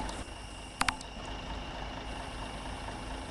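The engine of a bus in Bus Simulator Ultimate idles with a steady low hum and faint tonal whine, joined by a couple of brief sharp clicks near the start.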